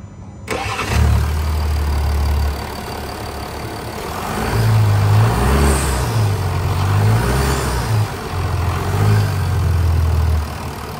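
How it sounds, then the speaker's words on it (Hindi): A Range Rover LWB Autobiography 3.0-litre Ingenium diesel starts up and settles into a steady, throbbing idle, heard close and loud with no voices over it. "आइए डीजल इंजन की साउंड सुनते हैं।"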